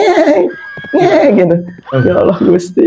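A voice imitates a horse neighing, producing a quivering, whinny-like cry in two or three bursts, mixed with normal speech close to the microphone.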